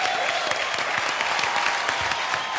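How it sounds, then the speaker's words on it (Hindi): Sustained audience applause for a stage act on a televised entertainment talent show, a dense even wash of many hands clapping throughout, loud and close with no break. "तो उसके लिए मैं आपके लिए दिल से ताली बजाना चाहता हूँ।"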